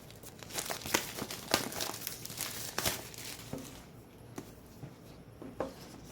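Plastic wrapping on an Apple TV 4K box is cut open with a set of keys, producing close crinkling and tearing with sharp scratchy bursts that thin out toward the end.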